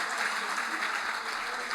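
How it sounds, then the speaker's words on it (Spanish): Crowd applause fills the space at a church service, a steady dense wash of clapping that holds evenly from start to finish with no voices breaking through. "Vamos, un aplauso para Gaby"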